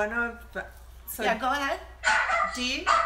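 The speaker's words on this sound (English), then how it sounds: "That was my dog barking" A dog barks and yips several times in quick, close bursts, loud and sharp, overlapping with a person's voice speaking briefly.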